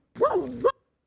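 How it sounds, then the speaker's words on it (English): One sharp, close dog bark rises and falls into a short yelping tail. It plays back alone in a quiet room, with nothing after it. "That's a dog."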